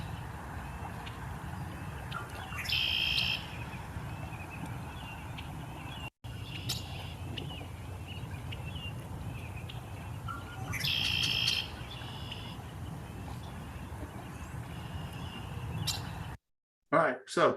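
Two short bursts of a female red-winged blackbird's bright, buzzy calls stand out against steady low background noise, separated by a long quiet stretch.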